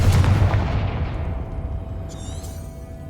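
A Confringo blasting spell explodes in Hogwarts Legacy, a loud booming blast that opens with a heavy low thump and then rolls away into a long fading rumble.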